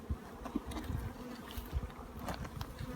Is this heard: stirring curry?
no